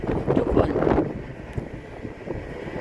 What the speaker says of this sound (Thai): เพราะว่าตอนท้ายเรือลมมันแรงเกินนะคะ